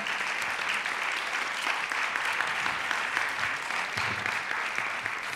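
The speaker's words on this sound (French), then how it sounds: "je crois qu'on peut applaudir tous les intervenants de notre table ronde" A seated audience gives sustained applause to round-table speakers after a debate on international affairs, social performance and responsible capitalism, with dense, even clapping that continues throughout.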